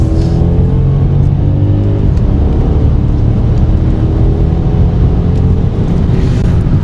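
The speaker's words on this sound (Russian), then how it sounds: "Ну вот, нажимаешь газ." A Mercedes S-Class W222 accelerates under throttle, a loud, steady engine drone heard from inside the cabin, with a rising tone early and constant road rumble throughout, no talk.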